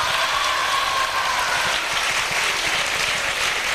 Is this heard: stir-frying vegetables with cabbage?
no